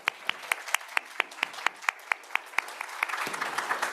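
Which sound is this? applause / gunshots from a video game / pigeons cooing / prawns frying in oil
applause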